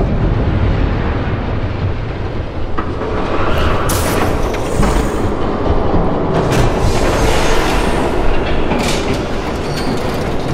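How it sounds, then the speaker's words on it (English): A train roars past at close range in the video game Batman: The Telltale Series, with a loud, steady rumble, rattling wheels and bright metallic squeals rising over the din for the whole stretch. "There's a train coming!"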